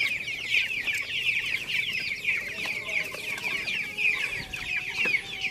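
A flock of native chickens and a rooster clucking near the microphone, with a dense, continuous chorus of overlapping clucks and chirps over a soft outdoor background.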